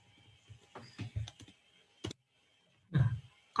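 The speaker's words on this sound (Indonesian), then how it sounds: "Keyboard saya rusak nih." Typing on a faulty computer keyboard during a recorded data-science lecture: scattered, uneven key clicks, close and fairly quiet, with gaps between short bursts and a louder cluster of strokes near the end.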